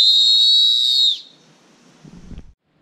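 A single long, shrill whistle blast sounds loud and steady for about a second, then stops, followed by faint rustling.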